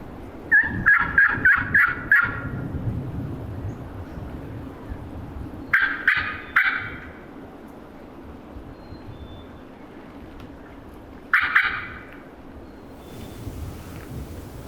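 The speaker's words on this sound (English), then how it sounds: "Let's see if I can get them to gobble again." Wild turkeys gobble from a distance on a windy hunt, three separate bursts of rapid rattling gobbles, with several calls near the start and single bursts later, over soft wind noise.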